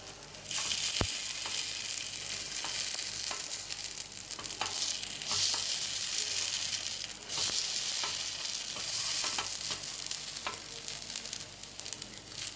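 Chettinad kara kuzhi paniyaram batter cooking in a paniyaram pan over a low flame, giving a steady soft sizzle with faint crackles and occasional sharp ticks, close and continuous with no voices.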